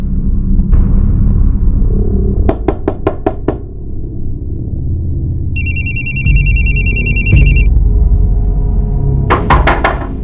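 A telephone rings from a blank call in a quiet room: a few loud, repeated electronic bell bursts in short groups, then a steady higher warbling ringtone tone, with knocking thumps and a low rumble underneath, no talk.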